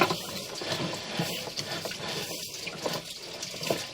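Water runs through an old 4-inch cast iron sewer pipe, a steady hissing, gurgling wash with faint clicks and knocks echoing inside the pipe, continuous and close.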